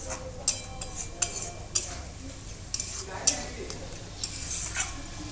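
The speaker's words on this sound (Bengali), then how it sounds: "একটা কেটে রাখা কাঁচা লঙ্কা দিয়ে দিলাম খুব ভালোভাবে মিশিয়ে নিচ্ছি" Maggi noodle soup with chopped green chili being stirred in a pan: a spoon scrapes and clinks against the metal in uneven strokes over a soft simmering sizzle, close and moderately loud, with no talk.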